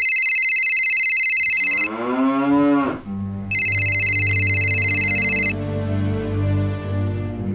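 A mobile phone rings for an incoming call: two loud bursts of a bright, repeating electronic ringtone separated by a low, sliding harmonic tone, followed by a sustained low hum.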